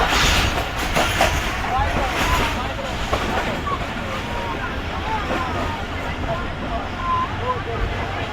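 Islamabad Express train running through Lala Musa railway station past platform 3, a steady loud rolling rumble with rattling carriage noise and wind throughout, heard from on board.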